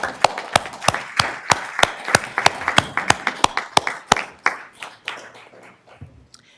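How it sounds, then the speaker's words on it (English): Loud, sharp claps ring out at a school board meeting, a few close hands beating in a steady, rapid rhythm before thinning and stopping near the end. "So, yes, we'll give you a round of applause."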